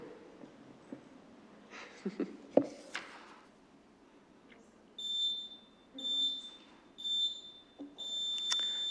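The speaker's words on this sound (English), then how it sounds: "You know the drill, you'll hear the beeps" A series of high electronic beeps sounds in short, evenly spaced bursts during a town council meeting, preceded by a few soft clicks and knocks.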